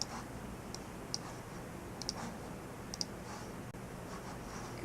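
A few sharp, isolated mouse clicks spaced about a second apart while working with the eyedropper tool in InDesign, close and quiet over a steady hiss of room noise.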